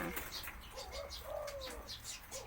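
A dove cooing against steady background noise, a few soft low coos rising faintly over a constant hiss and rumble.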